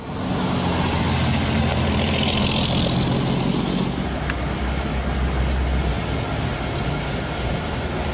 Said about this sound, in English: You could feel the torque of this massive overhead cam Hemi tank engine when you press down the gas pedal